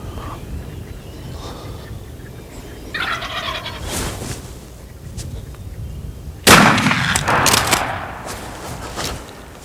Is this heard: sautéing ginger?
no